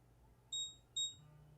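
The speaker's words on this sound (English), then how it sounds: "Beep, beep." Two short, sharp electronic beeps of an alert tone sound in quick succession, clear and fairly close over a quiet background hum.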